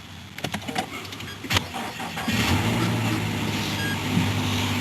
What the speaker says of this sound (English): Put your foot on brake and start it up.